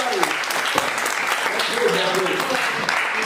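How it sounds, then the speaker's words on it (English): Applause from an audience honoring Narendra Modi at a corporate public-speaking talk, a dense steady patter of many hands lasting several seconds, with crowd voices mixed in. "So big round of applause for Mr. Narendra Modi, everybody."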